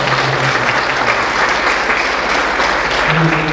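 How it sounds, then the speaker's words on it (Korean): Church congregation gives loud, sustained applause of welcome, dense steady clapping filling the room from start to finish, with a faint voice murmuring beneath. "박수로 환영해 주시기 바랍니다."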